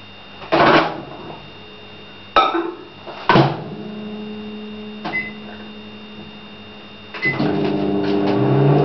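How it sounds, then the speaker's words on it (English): Clunks and a door thud, then a steady low microwave hum starts as a cup of water heats and keeps running at the end. "So just wait for the microwave now to finish"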